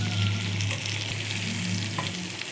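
Tomatoes sizzle and crackle in a hot pan as they are turned over, a short, close, continuous frying hiss with stirring and no talking.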